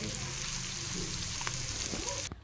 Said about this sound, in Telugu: కాకరకాయ కూడా వేసుకొని కలపెట్టుకోవాలండి